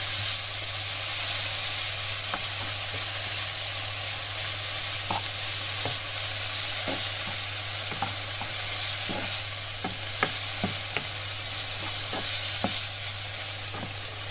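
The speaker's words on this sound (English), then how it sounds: "So we need to cook our bacon until it's crisp or starts to crisp." Bacon fries in a pan toward crispness, a dense continuous sizzle with scattered pops and crackles, close and steady with no voices.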